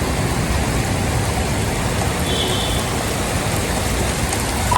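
Heavy rain pours steadily during a severe thunderstorm in New Jersey with strong winds and flooded roads, a dense, even wash of noise that stays loud and close throughout with no distinct thunder crack standing out.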